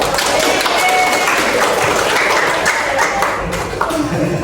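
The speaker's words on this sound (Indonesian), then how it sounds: "kita tepuk tangan buat Abel" A classroom of students claps for a classmate named Abel after a microteaching presentation, a sustained, lively round of many hands at close range, loud and continuous throughout.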